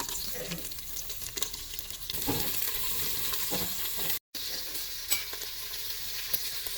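Whole garam masala and green chillies hit hot oil for a khichdi tempering, a bright crackling sizzle with stirring scrapes, steady apart from a brief dropout.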